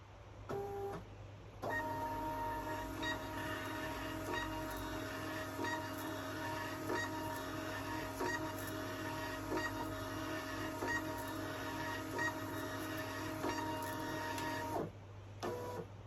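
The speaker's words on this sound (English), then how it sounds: "we'll print some labels" A label printer prints shipping labels for steadily about thirteen seconds, a continuous mechanical whir with a faint rhythmic ticking, starting and stopping abruptly.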